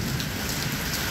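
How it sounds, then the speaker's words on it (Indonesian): Dense, steady rain pours down, a loud continuous hiss of drops hitting surfaces with no gaps. "Hujannya deras sekali ya."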